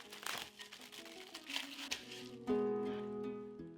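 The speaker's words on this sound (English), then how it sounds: "Cover with a plastic wrap." Plastic wrap crinkles briefly as it is pulled over a bowl of marinated chicken, a few close rustling crackles beneath soft background music.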